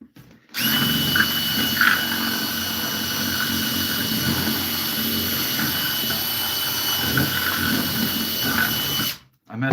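A power drill bores a hole in wood while an entryway bench is being built, giving off a loud, continuous mechanical whine that starts abruptly, runs for about nine seconds and then cuts off.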